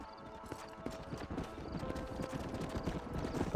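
Steady clip-clop of horse hooves on hard ground in the video game Red Dead Redemption, several horses trotting in a quick uneven rhythm, close and moderately loud with a faint background hum.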